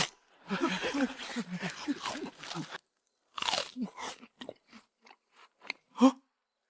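Several soldiers crunch and chew compressed biscuits in quick, close bites, a dense burst of chewing followed by sparser crisp crunches after a short pause, with no talk.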